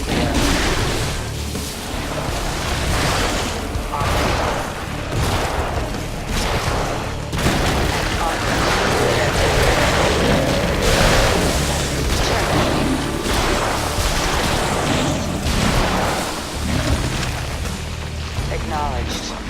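Weapons open fire in the StarCraft II Nova Covert Ops cinematics, a dense, continuous barrage of booms and gunfire bursts that lasts the whole stretch while voices talk over the din.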